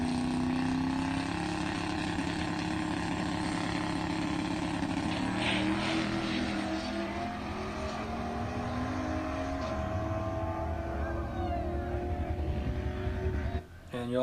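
Turbocharged drag car making a full pass at a drag strip, a loud sustained engine roar with rising and shifting tones as the turbo spools, heard from close and continuous until a brief drop near the end.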